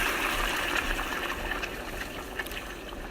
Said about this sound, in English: I've got a little bit of chicken stock and water, about a cup each, and I'm just going to add that to here.